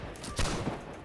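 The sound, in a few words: musket gunfire volley in Holdfast: Nations at War video game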